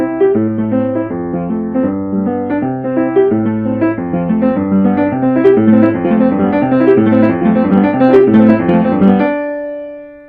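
Piano melody played as fast as possible, a rapid run of bright notes and chords in steady tempo, loud and alone, ending on a ringing held chord.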